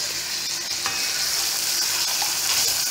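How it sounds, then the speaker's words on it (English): Bacon sizzles steadily in hot frying oil for a Jamaican ackee dish, a dense, continuous crackling hiss at close range with no talk over it. "Hear that sizzle."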